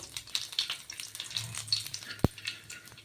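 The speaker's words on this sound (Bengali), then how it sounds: "সেই মাছ ভাজা তেলে আমি কি করব অল্প কালো জিরে ফোড়ন দিয়ে দেব তো কালো জিরেটাকে ভালো করে একটু ভেজে নেব" Black cumin seeds sizzle softly in a pan of oil left over from frying chapila fish, a quiet steady crackle with one sharp pop near the end.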